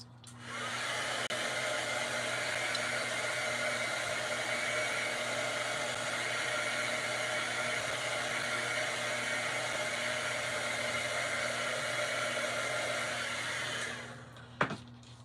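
A hair dryer blows steadily and loudly on freshly painted craft items between coats of paint, a constant whooshing drone with a low motor hum that runs unbroken for about fourteen seconds, then cuts off abruptly with a small click.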